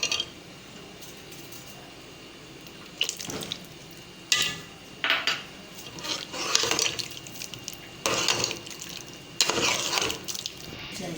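A spoon stirs and scrapes through beef nihari in a cooking pot, producing repeated wet swishes and clinks in irregular bursts over a quiet kitchen background.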